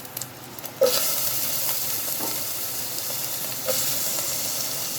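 Steady sizzling of onions and tomatoes dropped into hot oil, a loud hiss that jumps up suddenly and continues, with a second surge later, no voices.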